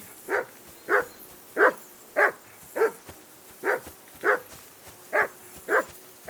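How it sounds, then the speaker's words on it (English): A dog in the video game Kingdom Come: Deliverance II barks repeatedly at a steady, even pace, about ten sharp barks spaced roughly half a second apart, fairly close with quiet gaps between. "Jesus, Henry, that barking's driving me nuts."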